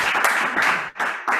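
Church service audience applauding in two or three bursts of clapping separated by brief dips, fairly loud and close.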